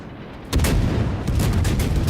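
Battleship New York fires a heavy salvo of main guns in World of Warships, a loud booming burst that rolls into sustained rumbling.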